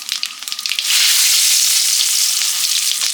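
Loud, crackling sizzle of spices dropped into hot mustard oil in a wok, a few sharp pops at first, then a steady intense frying hiss.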